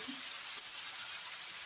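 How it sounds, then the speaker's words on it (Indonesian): Small anchovies (ikan teri) frying in hot oil left over from frying tofu, a steady, faint hissing sizzle with no talk. "Ini selesai buat goreng tahu, kita akan gunakan untuk menggoreng ikan terinya pemirsa."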